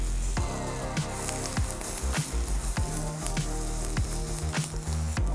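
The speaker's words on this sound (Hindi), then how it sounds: "हल्का सा बटर में बस टॉस करना है, हल्का सा बटर में नरम किया, उसके बाद डाल दिया अपना पाव, थोड़ी देगी मिर्च" Pav bread sizzling in butter with chili and tomato in a pan, a loud, close, continuous frying hiss broken by crackling pops and stirring knocks, no voices.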